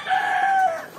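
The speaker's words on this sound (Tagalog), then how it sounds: "mga manok ko rito na nakikita ninyo, brown egger po sila, brown hen, brown chicken" A brown hen lets out a single drawn-out call, close and fairly clear over a quiet background.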